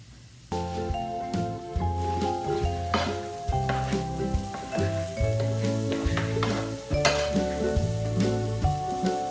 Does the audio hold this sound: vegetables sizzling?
yes